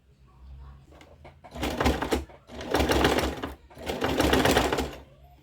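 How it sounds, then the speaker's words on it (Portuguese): A sewing machine stitches the centre finish of a pink rug in three quick, loud bursts separated by brief pauses, with softer handling noise at the start. "Agora, eu vou passar uma costura de apar aqui, pra fechar aqui esse acabamento aqui do meio."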